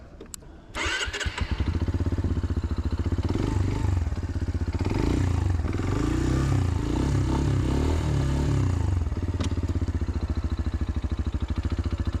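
A CFMOTO Papio SS motorcycle engine starts up with a clatter, then runs with a steady, throbbing mid-pitched rumble that holds close and loud.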